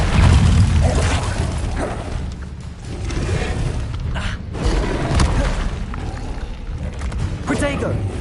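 Incendio fire spell cast in Hogwarts Legacy, a loud burst of booming, crackling magic at the start, then shifting rumbles and thuds through the rest of the scene.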